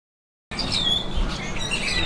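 Pigeons squawk and chirp loudly and continuously close by, a busy clamor of bird calls starting abruptly after a brief silence, with no talk.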